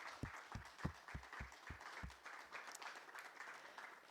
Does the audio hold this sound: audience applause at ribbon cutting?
yes